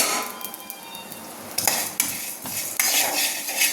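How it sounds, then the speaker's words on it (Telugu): Poppy seeds frying in a pan for a country chicken curry, a close, loud crackling sizzle broken by a few sharp clinks of a utensil against the pan, with no talk. "ఇప్పుడు ఈ గసాలు కూడా వేసేస్తే గసాలు ఈ తొందరగా వేగిపోతాయి అన్నమాట"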